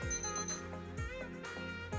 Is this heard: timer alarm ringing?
yes